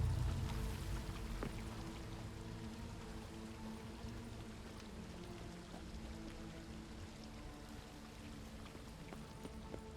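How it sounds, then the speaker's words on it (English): An upward-flowing waterfall in Witcher 3: Blood and Wine gives a steady, soft rush of water, an even hissing pour that holds for the whole stretch with no voices over it. "A waterfall flowing upwards."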